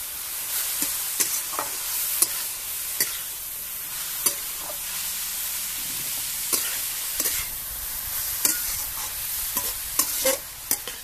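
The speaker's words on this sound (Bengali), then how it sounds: "এবারে ভালোভাবে তেলে নেড়ে নেব" Vegetables for a spicy egg pasta are stirred in hot oil in a pan, a steady sizzle broken by repeated sharp scrapes and taps of the spoon, close up with no talking.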